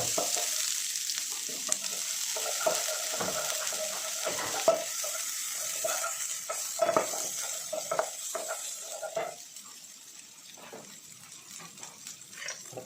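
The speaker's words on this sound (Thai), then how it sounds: "ก็ใส่ขิงกับหอมใหญ่ลงไป" Ginger and onion stir-fried in a pan give a steady hissing sizzle up close, with frequent clinks and scrapes of stirring that thin out toward the end.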